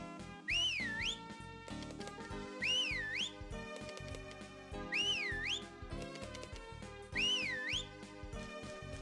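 A character in a farming video game whistles a rising-and-falling tune four times in a regular pattern, each phrase bright and clear over looping background game music.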